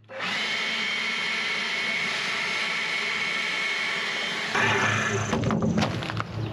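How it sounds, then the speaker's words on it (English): A handheld leaf blower runs steadily and loud, blowing loose sawdust off a chainsaw during a chain change, its airflow shifting in pitch and intensity near the end as it is moved around. "I'm gonna blow off anything loose with my blower."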